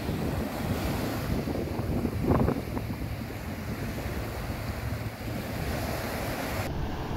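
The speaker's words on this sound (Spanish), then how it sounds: "Ya el mar muchísimo más tranquilo que días anteriores, muy disfrutable." Calm sea waves wash steadily on Playa Mamitas beach in Playa del Carmen, a continuous surf hiss mixed with wind rumble buffeting the microphone and no voices.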